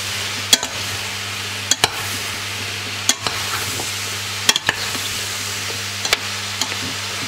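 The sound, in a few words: stirring and sweating mushrooms for soup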